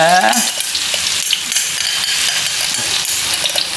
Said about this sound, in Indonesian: Langsung saja bumbu yang barusan di chopper ditumis ya.